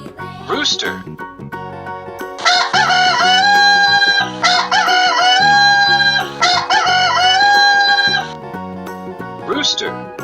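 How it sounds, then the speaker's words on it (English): A rooster crows loudly and repeatedly, long drawn-out calls running together in the middle, with a short crow at each end and background music underneath. "Rooster."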